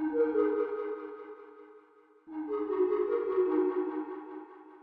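A plucked synth tone for a hip hop beat, its equalizer swept by a triangle-wave LFO and fed through ping pong delay, sustaining as a steady tonal chord that dips briefly and then swells back in, with no voices.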